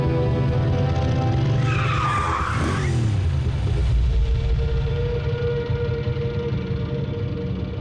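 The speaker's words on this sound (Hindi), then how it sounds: "मैं इंजन की आवाज से किसी का ध्यान खींचना नहीं चाहती।" A cartoon car engine roars steadily while tires skid and squeal loudly in a sweeping burst midway, the engine continuing to rumble afterward.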